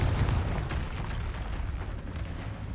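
A Confringo fire-blast spell in Hogwarts Legacy, heard as a continuous, loud rumbling blast with dense low-end roar and crackling bursts throughout, sustained and close.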